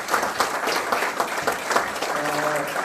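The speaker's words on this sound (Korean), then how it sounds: "열강을 해주신 김영희 박사님께 다시 한번 박수 부탁드립니다." An audience breaks into steady applause, many hands clapping together in a dense, sustained burst.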